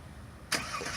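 A 1999 Pontiac Trans Am fires up by remote start, a sudden loud catch of the engine after near silence, then settling into a steady running rumble.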